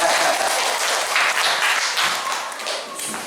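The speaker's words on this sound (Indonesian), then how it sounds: "Tepuk tangan untuk saya." An audience applauds at a lecture, a dense burst of many hands clapping close by, steady at first and then tapering slightly over about three seconds.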